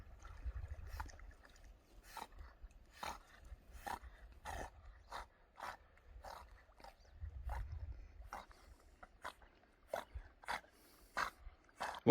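A dog out in a national forest near water snorts and sniffs in short sharp bursts, repeated irregularly over several seconds, close by and fairly quiet, with low rumbling handling noise in between.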